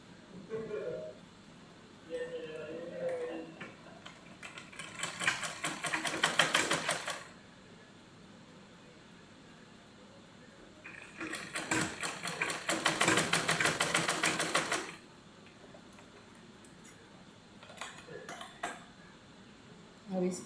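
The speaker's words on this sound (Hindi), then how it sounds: "अब सबसे पहले हम इसके कंधे सिल लेंगे।" A sewing machine stitches the shoulder seams of a garment in two long, fast rattling bursts with quiet pauses between, close and clear, with faint handling noises before and after.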